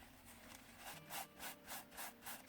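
A white tissue rubs back and forth over dried mica powder paste used for scrapbooking, making five or six soft, rhythmic scrubbing strokes, close and fairly quiet, with no talking.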